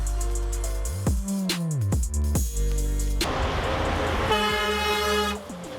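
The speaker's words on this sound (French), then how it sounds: "il me fait mon klaxon parce que je lui fais signe de klaxonner" A truck horn honks in slow traffic in the Paris region: a few loud, bending blasts and toots ring out over the steady rumble of engines, with one longer sustained honk near the end.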